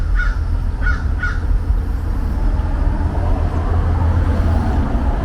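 Crows caw three times in quick succession near a garden bird bath, fairly distant, over a constant low rumble of road traffic.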